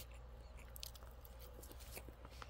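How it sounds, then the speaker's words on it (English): Someone chews Hillshire Farm oven roasted turkey breast right against the microphone, producing soft, close, wet bites and mouth sounds in an irregular rhythm, with no talking. "I am chewing with my mouth closed, but my mouth is so close to the microphone"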